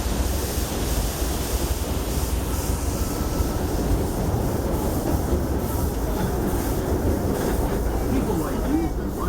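A steam train rolls along the Disneyland Railroad, its continuous rumbling roar and rattling wheels filling the whole stretch at a steady, loud level.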